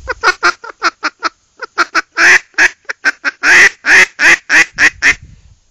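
A Foiles Timber Rattler duck call, blown softly, quacks in a quick rhythmic series of many notes, close and clear, growing fuller and louder midway before trailing off.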